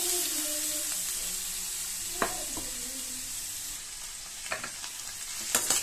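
Grated carrot sautéing in a pan, a steady soft sizzle with occasional sharp clinks and scrapes from stirring near the end.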